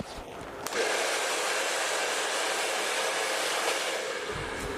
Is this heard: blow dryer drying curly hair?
yes